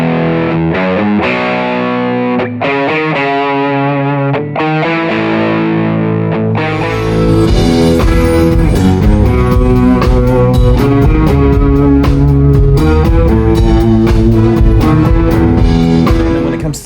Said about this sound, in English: the main kind of guitar sound I had was the OCD, run like this.